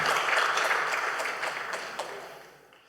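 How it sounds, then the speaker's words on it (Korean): A church congregation at a Sunday service applauds to welcome a group of graduating new-member class participants. The clapping is dense and steady, then gradually thins and fades away, with no talking over it. "우리 제3기를 따뜻하게 우리 환영의 박수로 안내해 주시기 바랍니다"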